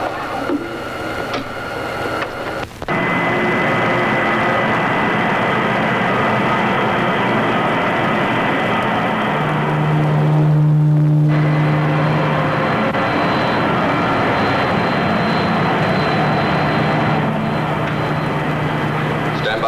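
A film spaceship sets down on a landing platform with a loud, sustained mechanical drone and rumble that kicks in abruptly and holds steady, with a tonal whine swelling midway and voices speaking at times.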